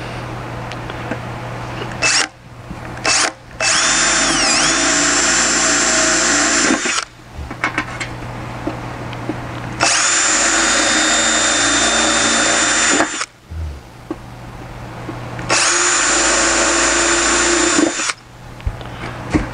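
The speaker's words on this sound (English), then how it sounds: "just show you the one little drill operation" A power drill whirs loudly in three long bursts separated by short pauses, its steady high whine biting into an aluminum Jaguar E-Type bonnet close by.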